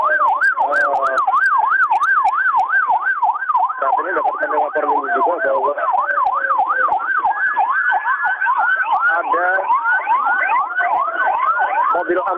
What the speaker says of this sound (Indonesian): mobil ambulan dari TNI dan sejumlah rumah sakit yang ada di seputaran Stadion Kanjuruhan merapat ke sini untuk membantu evakuasi dari para korban